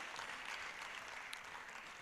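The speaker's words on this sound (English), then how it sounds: "A round of applause." Applause from an event audience, a faint, steady wash of many hands clapping at a distance, low in level and continuous over a short stretch.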